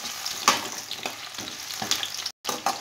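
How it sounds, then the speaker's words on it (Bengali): Pumpkin pieces fry in hot mustard oil in a wok over medium heat, a steady sizzle broken by sharp stirring scrapes, close and clear, with no talk. "এইবার মিডিয়াম হিটে রেখে কুমড়োগুলো আমি ফ্রাই করে নেব।"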